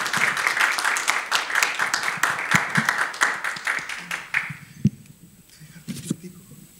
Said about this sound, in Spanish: Quiero dejar entonces aquí a nuestro invitado y que le demos un fuerte aplauso.